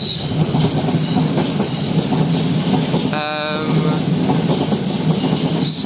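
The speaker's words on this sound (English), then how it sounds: "it's actually 2 DB Cargo UK 66 in a EWS livery kind of thing" Two DB Cargo UK Class 66 diesel locomotives in EWS livery pass a level crossing in Greater London, a loud continuous rumble and wheel clatter with a brief horn-like tone partway through, voices faintly underneath.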